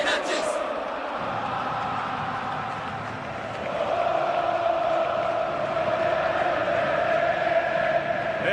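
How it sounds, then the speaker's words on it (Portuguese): Football supporters at Allianz Parque singing and cheering during a Palmeiras versus Bragantino Brazilian championship match, a steady broad roar of chanting voices that swells louder midway and holds. "É a torcida que canta e vibra, e que canta o líder do campeonato vencendo mais uma"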